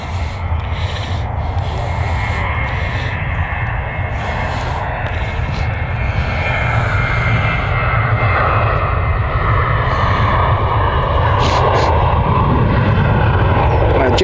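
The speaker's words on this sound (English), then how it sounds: "our turkey-nosed Jet 2 is taking off." Jet2 airliner with a modified nose taking off at Stansted Airport on a winter day, a loud steady engine roar that holds constant and swells slightly throughout, with faint talk mixed in.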